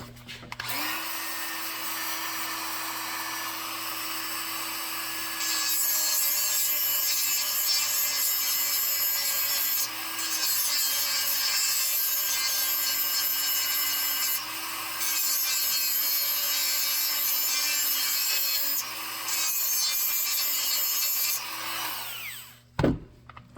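A Dremel rotary tool with a small cut-off wheel grinds through metal on a 1968 Ford F250 steering column part, a loud, sustained high whine that steps up and dips in pitch across several passes before spinning down.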